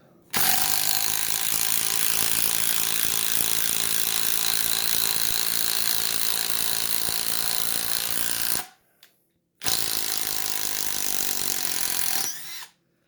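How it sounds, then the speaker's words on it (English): A DeWalt impact driver drives a screw in two loud, sustained bursts of rapid hammering clatter, the first about eight seconds long, then a brief pause before a shorter second burst, close up. "you could hear the DeWalt was working harder, and it definitely seemed like it took a little bit longer to drive that screw in"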